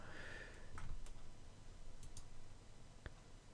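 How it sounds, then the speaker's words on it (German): Faint, sparse mouse clicks while playing the browser strategy game Travian Kingdoms, a few isolated ticks spaced apart over a soft background hum. "Ich klicke auf die Palisade an sich."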